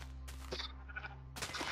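Sheep bleating in the Minecraft video game, a few short, thin bleats close together, quiet under game sound with a steady low hum behind.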